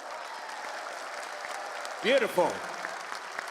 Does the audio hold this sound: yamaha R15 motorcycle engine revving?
no